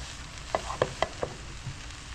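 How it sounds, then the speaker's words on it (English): A spatula stirs Spam ramen stir fry with veggies in a pan, making four quick scraping knocks over a soft steady sizzle, fairly quiet with no talk. "we're just gonna let this cook down a little bit, and I'm gonna stir it"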